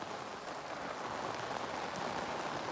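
Downpour over waterlogged farmland, a thick continuous roar of raindrops striking the ground, even in level and nearby, with nobody speaking.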